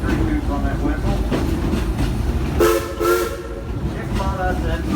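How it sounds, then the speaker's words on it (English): A steam locomotive on a tourist railway at Silver Dollar City in Branson, Missouri, sounds several tuneful whistle toots over the rumble and clatter of the moving train. "Give me 3 toots on that whistle."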